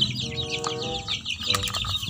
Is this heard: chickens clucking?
yes